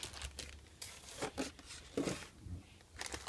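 A small plastic wrapper bag supplied with a JR XG14 radio transmitter is crinkled and rustled up close in several short bursts, with no talking.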